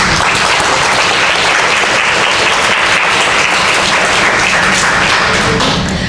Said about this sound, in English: I just want to give them a big round of applause